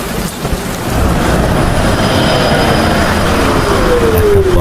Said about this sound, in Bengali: মাঝে মাঝে শোনা যাচ্ছে বাজের শব্দ।